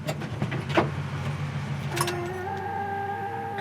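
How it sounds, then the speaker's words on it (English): A 1974 Oldsmobile 442 door buzzer sounds as a steady electric tone starting midway, following some clicks and rustling as the door is handled, fairly close and without speech. "Door buzzer still works, yeah."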